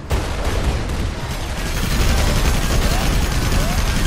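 A dense, constant barrage of automatic gunfire and crackling shots from a Rise of the Reds real-time strategy battle, loud and continuous, building slightly in intensity with no voices heard.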